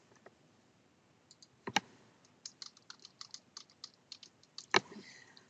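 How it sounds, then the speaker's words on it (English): A search term is typed on a computer keyboard in a quiet room, with scattered soft key clicks, a short burst of taps and a louder keystroke near the end. "I'll type the term aromatherapy and enter without specifying any field"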